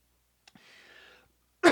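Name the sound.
cough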